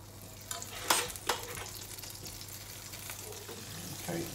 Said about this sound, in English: the butter's nice and getting heated